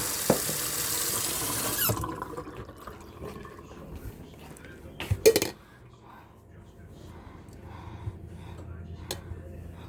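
Tap water runs into a kitchen sink while breakfast of vegetables and sausage is cooked, a broad rushing flow that stops midway, then a squeak and clatter, with people talking throughout.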